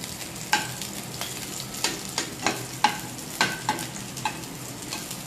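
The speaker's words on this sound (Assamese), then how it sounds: "হাই ফ্লেমত ভাজিলে ভাল।" Food frying in a pan over a high flame, a steady sizzle broken by a regular series of scraping stirs, close and moderately loud, with no voices.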